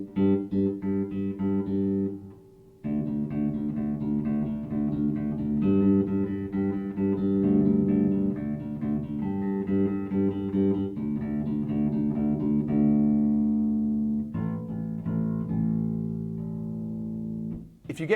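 Bass guitar plucked with two alternating fingers for a jazz bass lesson, playing a steady line of round, sustained low notes, alone and close, with a short pause near the start and another before the final phrase.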